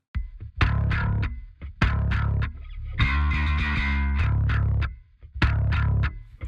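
Heavily distorted electric guitar through a Marshall JCM800 amp simulation with SSL-style compression plays punchy palm-muted chugs and a sustained chord, loud and aggressive with sharp snappy attacks and brief gaps between hits.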